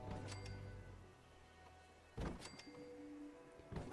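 A roof piece snaps into place on a settlement build in Fallout 4, heard as a muffled thunk near the two-second mark with a lighter knock at the end, over a quiet game ambience.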